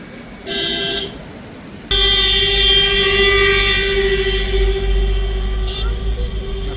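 Vehicle horns honk on a hill road near Mount Abu, one short blast followed by a long, loud sustained horn with a further brief toot near the end, over steady engine rumble.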